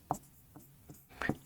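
A marker or chalk scrapes across a classroom board in a few short, quiet strokes, each a brief scratchy burst with pauses between, during a Class 12 physics lesson.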